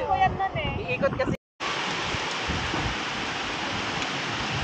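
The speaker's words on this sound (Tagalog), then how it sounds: "Lakas ng ulan, oh." Heavy monsoon rain pours down at a beach in a dense, continuous roar. A voice talks over it at first, and after a brief cutout the downpour continues alone.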